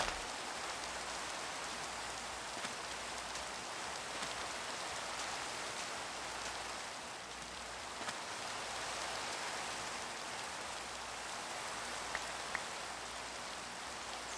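Steady rain falling in Minecraft, a dense, even hiss of drops on surfaces that holds for the whole stretch with no voices over it.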